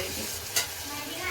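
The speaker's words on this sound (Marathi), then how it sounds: "उकळून घेतले चिकनचे पीस टाकून घ्या." Boiled chicken pieces tossed into hot oil with coriander and masala, a steady close sizzle broken by one sharp scrape of stirring.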